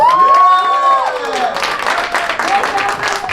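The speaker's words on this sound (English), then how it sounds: "So please give him another round of applause." Audience applause and cheering at a one-day seminar in Jacksonville fill the room, with whoops and raised voices layered over steady clapping throughout.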